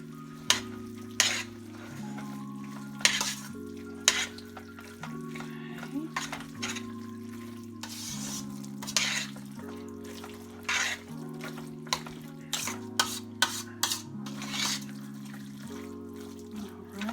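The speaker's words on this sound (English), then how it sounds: "So you stir to combine" Beef sandwich filling stirred in a pan over low heat, scraping and clinking of the spoon in scattered bursts over a soft sizzle, with background music playing throughout.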